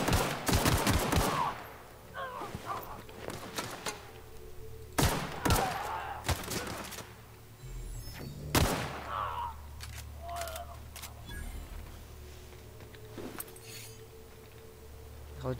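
Video game gunfire in The Outer Worlds aboard Hawkthorne's ship: loud sharp shots in scattered bursts and single cracks, interspersed with quieter game sounds.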